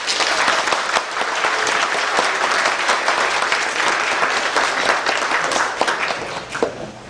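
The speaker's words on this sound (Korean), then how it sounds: "우리 목사님 나오실 때에 열광의 박수로 맞이하도록 하겠습니다" Church congregation at an ordination service breaking into loud, enthusiastic applause to welcome the pastor, a dense sustained clapping that holds steady and then begins to thin out at the very end.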